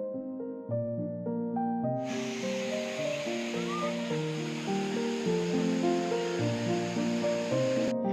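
The waterfall at Benang Kelambu in Central Lombok rushes as a steady, broad hiss from about two seconds on, heard beneath a melodic music track that plays throughout.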